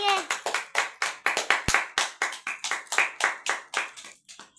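A small group clapping at home during a sweet-and-sour candy challenge, a run of quick uneven bursts of hand claps close by, steady for several seconds, with a voice briefly underneath.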